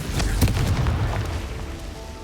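A Confringo blasting spell explodes in Hogwarts Legacy, a deep booming burst that rumbles and fades over a couple of seconds.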